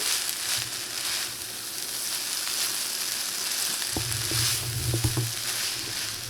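Vegetable lo mein tossed and stirred in a hot pan, a steady loud sizzle with scraping clinks of the utensil near the end, no talking.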